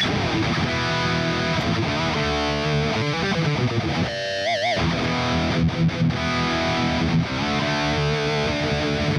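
Heavily distorted electric guitar played through a TONEX amp modeler pedal on its Extreme preset with the Road King cabinet, thick crunchy chords and bending notes with a brief wobbly, warbling passage midway, loud and close.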